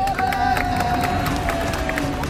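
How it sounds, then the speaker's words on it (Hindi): Loud crowd applause and cheering at a cricket league event, dense clapping mixed with crowd noise, with a sustained tone running through it, close and continuous. "जोरदार तालियां"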